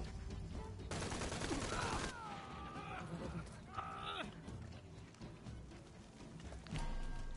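A submachine gun fires in Shadow of the Tomb Raider in loud rapid bursts, with one long burst early and another near the end, while shorter sounds and whooshing effects fill the gaps and a voice speaks briefly.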